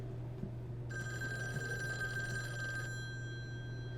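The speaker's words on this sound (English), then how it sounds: "Phone's ringing." Video game telephone ringing in a steady, bright electronic trill for about two seconds, heard alone over a low constant background hum.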